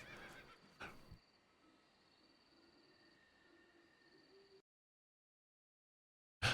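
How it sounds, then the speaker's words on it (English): Horse in a video game, from a Metal Gear Solid: Snake Eater play session, giving a fairly quiet neigh over low game ambience, followed by silence and a sudden loud burst at the end. "There's a horse."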